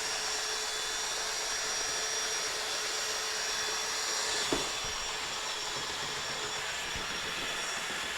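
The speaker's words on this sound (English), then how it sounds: "Now I'm just going to slowly bring up my paddle and get it mixed." A paddle mixer churns IPA Drycon waterproofing compound in a steady, loud motor drone that holds evenly throughout, with one brief knock midway.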